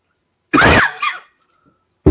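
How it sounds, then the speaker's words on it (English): A man coughs once, a loud, close, harsh burst with a short second hack trailing after it, followed by quiet, then the start of another sound at the end. "I've been fighting this cough for a while"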